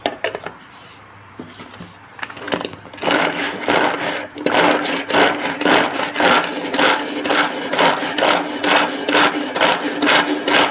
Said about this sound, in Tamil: கேரட் எப்படி கட் பண்ணுதுன்னு பார்க்கலாம்